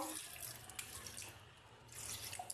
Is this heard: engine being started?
no